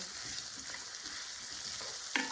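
Onions sizzle and fry steadily in a hot pan while salisbury steak with mushroom gravy is being made, a continuous close crackle with brief stirring scrapes and one sharper clatter near the end.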